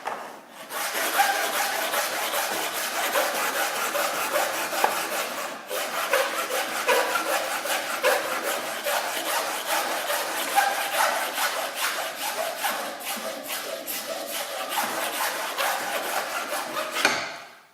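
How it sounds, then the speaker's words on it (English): Hand file smoothing the plastic lid of a pencil case, steady rhythmic rasping strokes repeating continuously, close and fairly loud, with no talking over them. "we move our file in this direction and also along the piece of work"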